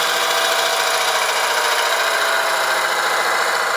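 On a woodturning lathe, a tool cuts straight down into spinning wood to start a tenon, producing a loud, steady, continuous whirring hiss with no pauses.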